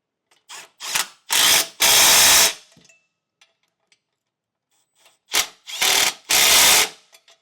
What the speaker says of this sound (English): I'll use a 9/16 socket and a wrench.